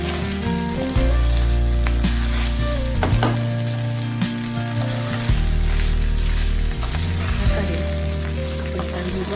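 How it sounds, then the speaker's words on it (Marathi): Rice for jeera rice is sautéed with spices in a hot pan: a loud, continuous sizzle close by, broken by repeated scraping and stirring strokes. "2 मिनिटं आपल्याला हे तांदूळ जे आहेत यामध्ये व्यवस्थित परतून घ्यायचे आहे."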